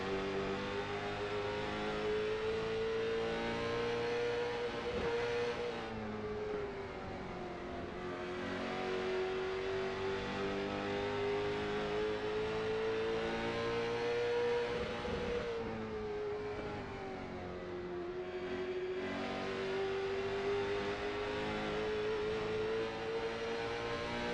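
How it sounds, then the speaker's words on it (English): Late model race car engines in the iRacing sim scream at high RPM, a sustained loud whine that dips and climbs repeatedly as the car lifts and accelerates through the corners at Thompson, with no talk over it. "can just hear these things scream when they get on the high RPMs."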